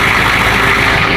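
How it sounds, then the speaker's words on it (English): A Duramax diesel swapped into a Hummer H1 runs loudly and close by, a continuous deep rumbling drone with no talk over it. "Love the sound of that diesel engine."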